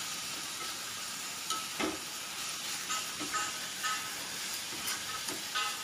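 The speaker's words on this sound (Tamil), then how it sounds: "இப்போ இதில் எல்லாம் நல்லா நம்ம வதக்கிக்கலாம்." Spices for a dry fish gravy sauté in a pan with a constant bright sizzle, while a spoon stirs through them in soft, repeated scraping strokes every second or so.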